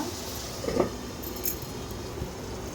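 A lid is lifted off a cooking pan while egg bhurji cooks, giving one brief metallic clink close by in an otherwise quiet kitchen.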